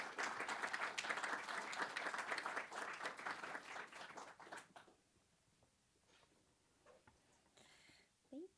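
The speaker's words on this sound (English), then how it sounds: "Let's have a round of applause for Jean Ferruzola." Applause from a small audience at a literary reading series honors a reader, a steady round of clapping for several seconds that thins out into a few scattered claps, followed by a quiet room with a faint voice.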